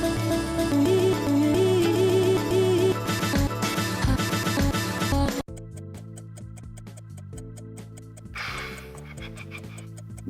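A song excerpt plays as a musical clue on a radio quiz show. A dense full-band passage runs loudly for about five seconds, then cuts abruptly to a sparser, quieter section with plucked notes and a short vocal burst.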